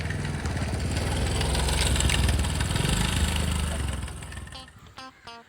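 Motorcycle engine idling near a house, a steady, rumbling, fairly loud drone that fades toward the end, with a few faint knocks or clicks afterwards.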